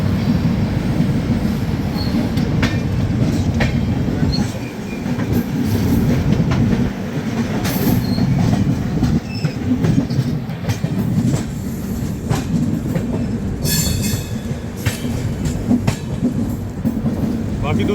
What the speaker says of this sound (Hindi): ये शायद झारखंड एक्सप्रेस है, झारखंड एक्सप्रेस रांची आनंद विहार।